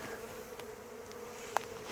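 Honeybees buzz at an open hive during an inspection, a faint steady hum with a sharp click near the end and no voices.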